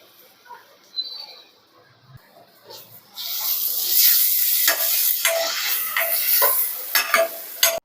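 Tomatoes drop into a hot pan and sizzle loudly, with stirring scrapes and crackles over a steady hiss, near and continuous.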